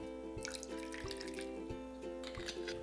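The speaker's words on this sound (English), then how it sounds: "To make the sauce, we're gonna add in the soy sauce, rice vinegar," Soy sauce, rice vinegar and rice wine pouring into a bowl for a maple chicken wing sauce: faint, close trickling and gentle liquid splashes, with a few soft drip-like taps, heard over a low steady hum.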